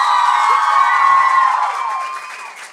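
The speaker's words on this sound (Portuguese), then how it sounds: "Por isso, um aplauso gigante para o Tiago, por favor." An audience at a live drum show cheers and whoops loudly, a steady crowd roar that holds strong and then eases off toward the end.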